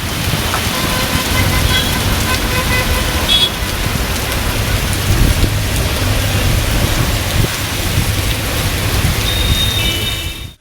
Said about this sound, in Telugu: చార్మినార్, చాంద్రాయనగుట్ట ప్రాంతాల్లోనూ ఎడతెరిపి లేకుండా వర్షం కురిసింది